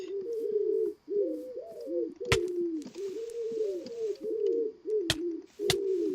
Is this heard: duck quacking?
no